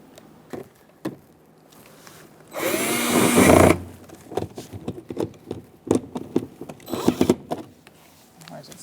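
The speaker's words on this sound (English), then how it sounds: "Now we're going to put the screw in under this cover." A power driver runs a screw in under the cover of the rear door on a 2004-2009 Mazda 3, a single loud whirring burst of about a second amid light handling clicks and taps.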